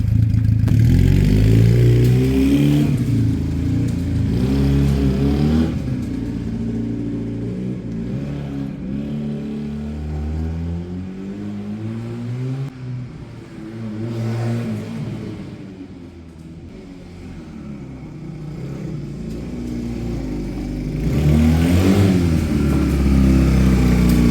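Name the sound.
Sinnis Cruisestar 125cc motorcycle riding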